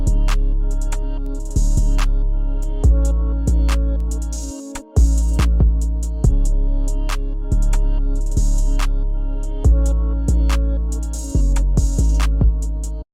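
Dark trap beat with a guitar melody, a heavy boosted 808 bass and a punchy kick hitting in a steady pattern, loud and full, with a brief dropout near five seconds before the groove returns.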